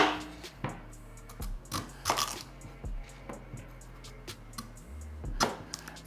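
A knife cutting kabocha squash into half-inch slices: a series of sharp, close crunching chops at an irregular pace, each a brief crisp crack against a quiet kitchen background.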